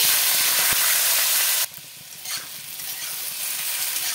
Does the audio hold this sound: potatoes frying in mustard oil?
yes